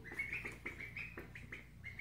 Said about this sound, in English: Baby ducks.